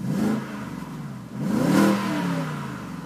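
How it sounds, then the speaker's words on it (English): Grey BMW 635ci convertible with a petrol engine and automatic gearbox, running and revving: a moderate engine hum rises in two smooth revs, falling back between them. "Have a listen to that engine."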